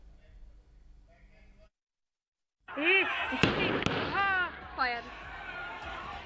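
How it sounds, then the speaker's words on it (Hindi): Gunshots fired from a house rooftop near a mosque during a clash with stone-pelting: two or three sharp, loud cracks in quick succession amid agitated shouting voices, after a brief hush. "पहली फायर, दूसरी फायर और ये तीसरी फायर।"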